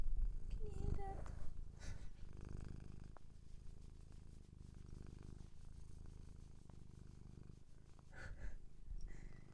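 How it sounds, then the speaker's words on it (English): A pet cat purrs loudly and steadily close to the microphone, a deep continuous motor-like rumble with rhythmic breathing pulses, briefly overlapped by a person speaking softly early on. "It is a mighty purr."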